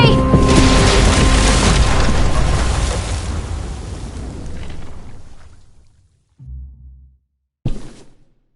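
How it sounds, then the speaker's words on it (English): A bomb explodes in The Walking Dead video game, a loud broadband blast that rumbles and slowly decays over several seconds, followed by a short low thud and a sharp final burst. "Shit, the bomb!"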